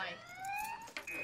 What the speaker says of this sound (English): That's your car alarm.